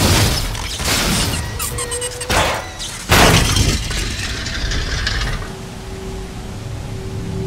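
Explosion in the video game Nier:Automata, heard as a series of sharp shattering bursts and metallic debris crashes, the loudest hit near the middle, followed by a lingering rumble and a thin sustained tone.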